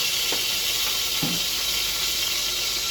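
Chicken feet sautéing in rendered pork fat for adobo, a steady close sizzle and hiss of frying throughout with a few brief stirring clinks, no talking.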